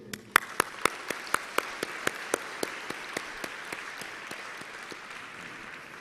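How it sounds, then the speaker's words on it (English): Applause from a graduation commencement audience: a steady wash of many hands clapping, with a few sharp, louder claps standing out near the start before gradually thinning out, no talking. "So let all of us give a big round of applause for this success today."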